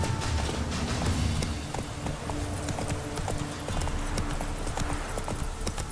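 Roach, a horse in the video game Witcher 3, gallops with rapid, continuous hoofbeat clip-clops at a steady rhythm, loud and close, alongside a constant dense background rumble.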